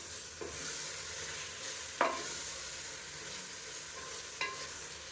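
Ground onion and mint paste with ginger-garlic paste sautéing in oil, a soft continuous sizzle broken by three distinct spoon scrapes and stirs against the pan.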